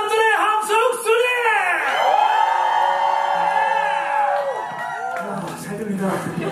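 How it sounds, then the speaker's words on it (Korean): At a concert the crowd cheers and shouts together, rising, drawn-out voiced whoops swelling and fading across several seconds, loud and close. "우리 향한 사람들의 함성 소리!"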